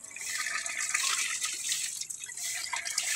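Water gushes steadily from the pipe of a newly drilled 70-foot deep well, a continuous bright splashing flow that stays loud and close throughout with no talk.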